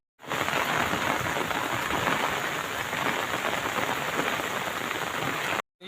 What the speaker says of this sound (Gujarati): હું વરસાદ બતાવી શકું અને તમે જોઈ શકો કે વરસાદનો માહોલ કેવો જામ્યો છે